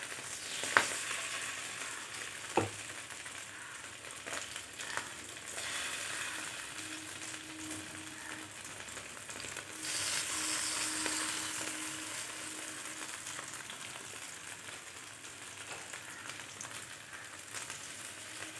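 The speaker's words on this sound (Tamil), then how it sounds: "அதே மாதிரி நம்ம இருக்கிற மீதி மீன்களையும் போட்டு எல்லாத்தையும் இதே மாதிரி ஃப்ரை பண்ணிவிட்டு வந்துடலாம்." Small fish fry in hot oil with a continuous soft sizzle, fairly quiet and steady, with a couple of sharp clinks near the start and no talk.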